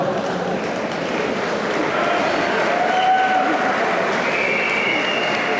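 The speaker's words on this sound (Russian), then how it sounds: "Аплодисменты." Spectators at a Moldovan wrestling championship applaud in a hall, a steady dense patter of many hands at moderate distance lasting the whole stretch, with a few faint whistles and an announcer's voice mixed in.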